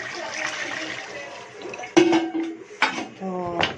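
Water is poured into a pot of cooking Bannu beef pulao, with several short splashing pours and metallic clinks of the pot, close and fairly loud.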